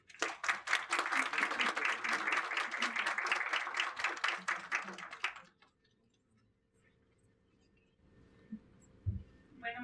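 An academic symposium audience claps for a speaker in a brisk burst of closely spaced claps for about five seconds, then stops abruptly into near silence with a few faint bumps and movement sounds.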